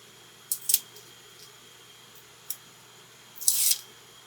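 Paper is trimmed back for card making with a few short, crisp snips spaced apart in a quiet room, the last pair slightly longer and louder.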